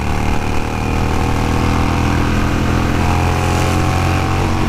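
Harley-Davidson Sportster cafe racer motorcycle engine running with a steady, loud low rumble, a dense continuous drone close to the microphone with no talking.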